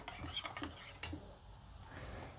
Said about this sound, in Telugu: కొంచెం మిల్క్ వేసుకోండి ఇలా కలుపుకుంటే సరిపోయిద్ది